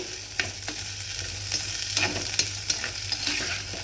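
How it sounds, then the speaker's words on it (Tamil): Green turkey berries sauté on a low flame in a stone pot, with rhythmic scraping stir strokes over a soft, steady sizzle, close up and with no voices. "நல்லா கல்சட்டை சூடானதுக்கப்புறம் நீங்கள் சிம்லேயே வச்சு வதக்குங்க"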